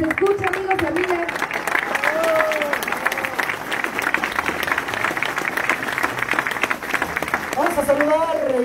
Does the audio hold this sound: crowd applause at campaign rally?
yes